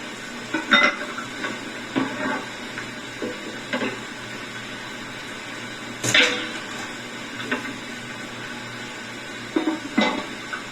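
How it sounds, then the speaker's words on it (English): A lid set onto a cooking pot of pasta on a stove, heard as a series of light metallic clinks and clatters spread across the clip, with a sharper rattle midway and a few more taps near the end. "now we're going to put the lid on that, bring up the fire just a little bit"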